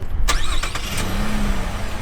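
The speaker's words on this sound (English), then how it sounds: "Now we'll turn on the truck." A truck engine cranks and catches, a few quick starter bursts followed by the motor settling into a steady idle, close and fairly loud, with no talking.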